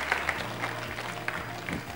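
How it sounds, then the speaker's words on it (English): An audience at a youth leadership forum gives group number 3 a round of applause, moderately quiet clapping and crowd noise in a hall, soft and fairly sparse. "Round of applause to group number 3."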